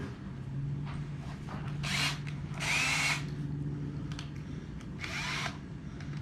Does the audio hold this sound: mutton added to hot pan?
no